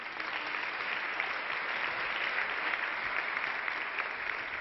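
An audience applauds at a United Nations event, a dense, steady wash of clapping that holds evenly throughout with no voices over it.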